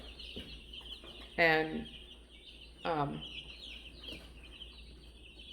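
Cornish cross chicks cheep in a steady, high-pitched chorus, with two louder, rougher calls standing out. A voice is briefly heard.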